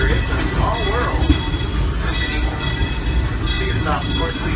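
A Disneyland Railroad train rolls along its tracks with a steady rumble and rhythmic clatter, loud and close from the front of the train, while a voice speaks over it.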